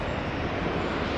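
A landing airliner at Manchester Airport, its tail swinging under rudder input, makes a brief, dense roar of engine and rushing air at constant strength.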